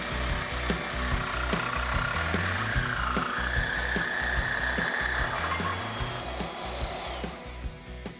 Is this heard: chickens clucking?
no